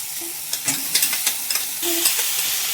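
Potato slices hit a hot pan and are stirred, giving a steady sizzle with repeated spoon or spatula scrapes and clinks against the pan, close-up and without talking.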